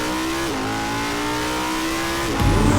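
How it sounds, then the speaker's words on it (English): A 2020 Audi R8 V10 Performance engine screams loudly and steadily at high revs, its pitch dipping briefly at a gear change and again near the end. "An absolute masterpiece of an engine. And the sound."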